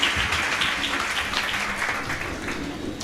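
Congregation clapping together during a Sunday church service, a dense continuous patter of many hands held at steady loudness throughout, with no talk over it.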